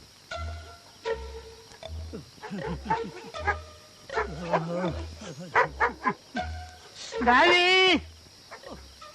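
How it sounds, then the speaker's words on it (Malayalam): A dog barks and yelps in short repeated bursts, mixed with voices and a steady low thumping beat underneath. "ഈ പട്ടി എന്തിനാ അങ്ങനെ കിടന്ന് കുറയ്ക്കുന്നത്?"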